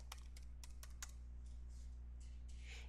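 Soft keystrokes on a computer keyboard as a short tag name is typed, a quick burst of separate taps followed by a few lighter clicks over a low steady electrical hum, faint and close, with no voices.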